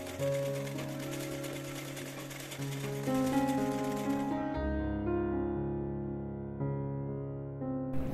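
A sewing machine runs in quick bursts, stitching a baby frock's neckline with a rapid mechanical whir that stops and restarts, close and clear, ending in a pause with faint ringing tones.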